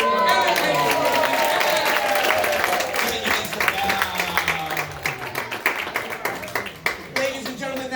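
Sustained applause and clapping from a crowd gathered at a celebration-of-life memorial, loud and dense throughout, with voices and cheers mixed in among the claps.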